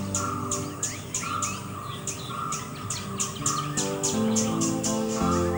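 Birds call and chirp in repeated short bursts over a Thattekad sanctuary wetland of still water with water lilies, steady and moderately near against a continuous layer of insect-like background noise.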